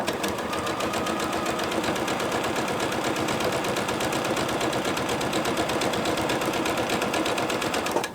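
Sewing machine stitching a 1/4-inch seam down one side of joined quilting squares, a loud, steady, rapid mechanical whirr with a fast even clatter that runs without pause for several seconds, no talk.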